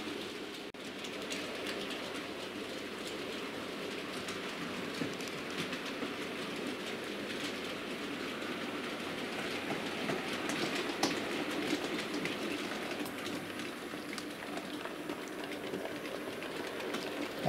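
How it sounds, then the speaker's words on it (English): A model A4 Pacific locomotive pulls a heavy coal train, giving a steady continuous rumble with faint clicking of wheels over track joints, moderately quiet and unbroken throughout, with no talking. "And you can see it's pulling a heavy coal train without any issues,"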